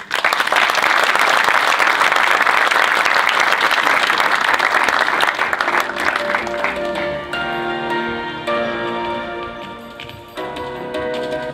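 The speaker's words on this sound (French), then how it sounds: "je vous demande de l'applaudir" Audience applause for a speaker at an evening event, loud dense clapping that gradually thins into scattered claps while music rises underneath.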